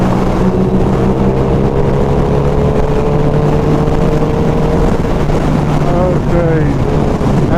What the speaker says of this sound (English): And this is what I like about the Hayabusa. It's just a 6th gear.